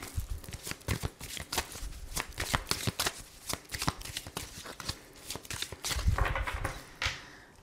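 Oracle cards shuffled by hand, a dense run of crisp riffling flutters and slaps, close and fairly loud with no talking.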